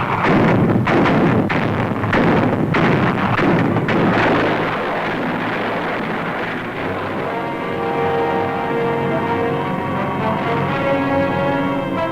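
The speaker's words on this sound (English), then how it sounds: "A phosphorus shell bursts on shore" A phosphorus shell bursts on a shore during a 1945 Pacific amphibious landing, giving a series of heavy, rumbling blasts early on that fade into a sustained low roar and drone, loud and wind-buffeted throughout.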